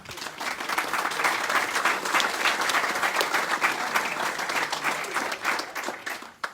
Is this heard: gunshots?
no